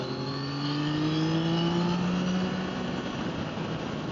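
A 2025 Yamaha Tracer with a triple engine accelerates hard from the rider's seat. The engine whine climbs steadily in pitch through a gear, then drops back, all under loud, continuous wind rush with no talking.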